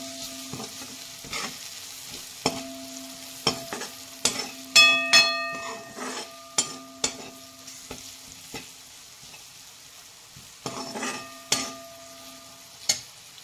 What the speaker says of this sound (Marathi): आता हे सर्व आपण एकत्र करून घेणार आहोत.